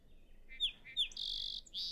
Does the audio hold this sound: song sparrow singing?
yes